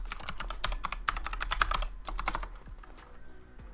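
Computer keyboard typing while signing in with a password on a home lab server, a close, steady flurry of clicking keystrokes that thins out near the end.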